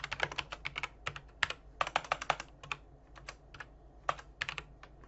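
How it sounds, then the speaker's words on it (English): Typing on a computer keyboard, quick irregular bursts of crisp key clicks with short pauses between them, close and quiet, no voices. "I'm going to click inside here and type my name"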